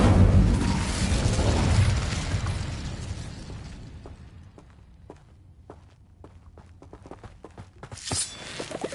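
A fire spell cast in Hogwarts Legacy bursts out in a loud, roaring whoosh that fades over a few seconds, followed by scattered light footsteps and small pops.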